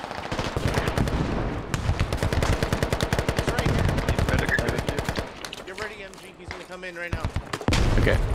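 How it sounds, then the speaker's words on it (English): Heavy .50 caliber machine gun fire in a large multiplayer shooter battle over a compound: a long run of rapid, loud, evenly spaced shots, then a quieter lull and a renewed close burst, with voices mixed in. "There's a 50 cal that's gonna hit you."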